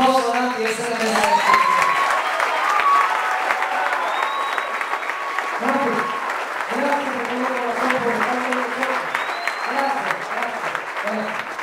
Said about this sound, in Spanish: Señoras y señores, vamos a darle un aplauso a Nati